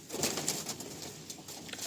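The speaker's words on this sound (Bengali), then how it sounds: "যেহেতু খোপ ভেঙে দেওয়া হয়েছে, সেহেতু পায়রা এইভাবে সব একসঙ্গে রাখা হয়েছে 4টে সেকশন করে" Around thirty giribaj and madrasi pigeons kept together in four sections of a sale loft give soft, low cooing, continuous and near, over a light hiss.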